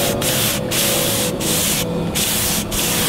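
A steady airy hiss of fine spray runs continuously, with brief pauses every half second or so where the spray cuts out, close to the microphone.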